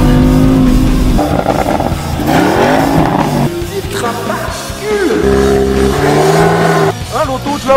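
An Audi RS3 engine revving in a series of rising and falling sweeps, loud and close, with the pitch climbing on each throttle blip.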